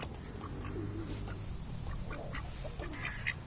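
A hungry duck among roosters and a turkey quacks in a few faint, scattered calls over a constant background hum of the yard.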